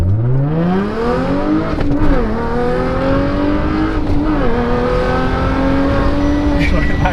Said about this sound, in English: Hold it, like rev it to 4K, hold it, and then full dump, and then pedal the floor and dump the clutch.